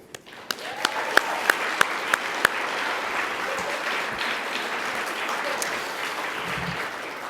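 A conference audience at an opening session bursts into sustained applause, a dense wash of clapping that holds steady for several seconds, with a few sharp louder claps at the start.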